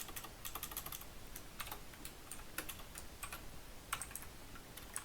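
Rapid typing of CSS animation code on a computer keyboard, with steady clusters of crisp key clicks close to the mic and no voices.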